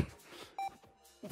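A workout interval timer gives a single short, clear electronic beep during a HIIT gym session, heard alone between quiet stretches with faint background noise.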